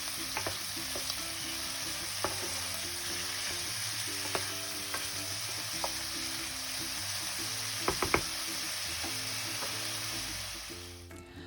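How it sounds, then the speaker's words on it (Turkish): Steady sizzling of chicken pieces frying in a pan for creamy chicken pasta, with occasional clinks and scrapes of stirring, close and continuous before fading at the end. "Tavukların alt yüzeyleri güzelce piştikten sonra şimdi güzelce karıştırıp diğer yüzeylerinin de pişmesini sağlıyorum."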